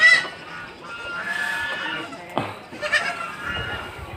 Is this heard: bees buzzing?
no